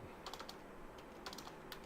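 Quiet typing on a computer keyboard while entering text with the area type tool in Adobe Illustrator CC 2019, light scattered clicks in small bursts.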